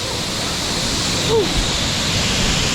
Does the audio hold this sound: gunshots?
no